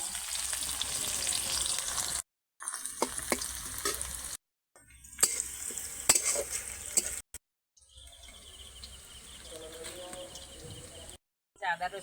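Chopped onion frying in a pan for rajma curry, a steady broadband sizzle in several bursts broken by short silent gaps, with faint stirring scrapes and brief talk nearby.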